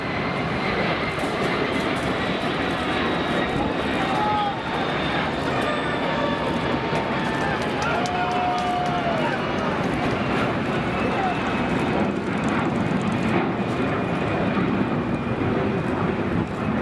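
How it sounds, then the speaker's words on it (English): Large jet landing while carrying Space Shuttle Endeavour piggyback on its way to the California Science Center, a steady loud engine roar with whining tones held throughout, voices murmuring underneath. "the precise moment a plane landed while carrying the Space Shuttle Endeavour to the California Science Center"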